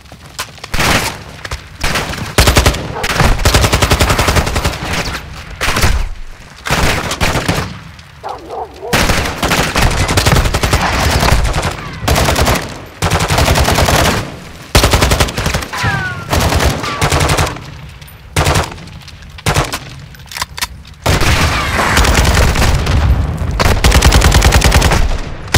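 A squad's gunfire in the video game Modern Warfare 2, loud sustained automatic bursts and rapid shots that stop and start repeatedly, with shouted voices mixed in.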